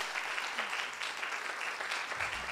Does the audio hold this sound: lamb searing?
no